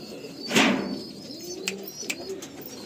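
Pigeons coo softly inside a loft at Amtala, Behala, with a couple of low throaty calls and a brief flutter or rustle near the start, set against quiet room ambience.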